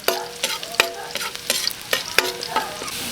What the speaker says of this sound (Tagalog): Start ulit tayo sa pagigisa. Madaming bawang lang po.